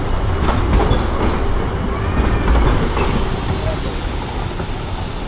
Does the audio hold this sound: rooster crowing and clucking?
no